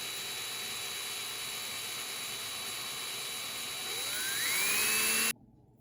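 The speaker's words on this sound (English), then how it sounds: "So I'm drilling it right now with a 1/16 inch or a 16 millimeter." A small 1/16-inch drill bit bores out a rivet on a die-cast Matchbox KingSize Merryweather fire engine model, a steady high whine that climbs in pitch and grows louder before cutting off abruptly.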